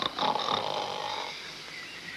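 Low, rasping snores from gnomes asleep inside an old oak, a single drawn-out snore that fades into quiet, soft and close with no voices over it.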